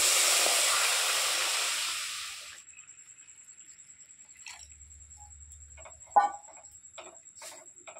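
Milk poured little by little into hot sugar caramel sets off a loud, rushing sizzle and steamy hiss that fades after a couple of seconds, followed by quiet soft ticking and faint clinks of a utensil in the pan.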